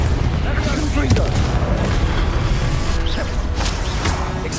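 A Confringo blasting spell goes off in Hogwarts Legacy, dense rumbling explosions and crashing impacts that stay continuously loud, with battle noise throughout.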